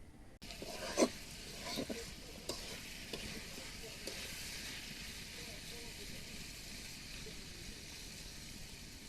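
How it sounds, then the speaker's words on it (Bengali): Potatoes and onions fry in a pan for a chal kumra leaf vorta, a soft, steady sizzle with a few scraping stirs near the start, then an even hiss. "এদিকে আলু দিয়ে পেঁয়াজ দিয়ে ভাজিছি"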